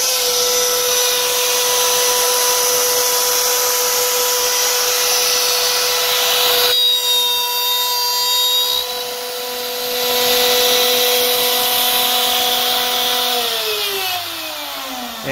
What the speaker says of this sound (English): So that is operating the Digital Woodcarver 1824 using the motion control CNC TNG software.